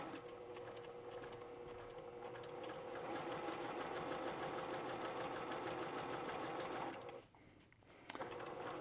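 Sewing machine stitching around a teddy bear's head, a steady close rapid mechanical whir running continuously for about seven seconds, then briefly stopping and restarting.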